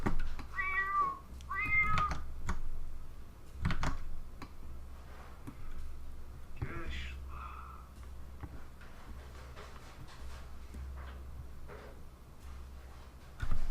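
A cat in The Sims 4 meows twice in quick succession early on, then soft clicks and ticks of a keyboard and mouse fill the rest under a low hum.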